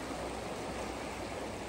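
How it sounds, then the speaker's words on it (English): A calm, icy mountain river flows with a steady, even broadband rush that never changes and has no voices over it. "a very calm, very cold, icy mountain river"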